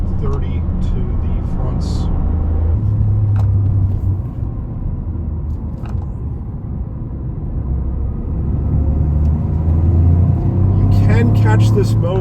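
A 2023 Toyota GR Corolla with a turbocharged engine, driven in track mode with four-wheel drive, gives a steady, loud, low engine drone under way, swelling slightly twice, with cabin road rumble underneath.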